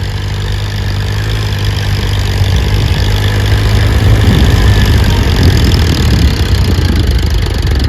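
A tractor engine runs steadily in sand at a racing contest, a loud, continuous low rumble close by with no breaks or speech.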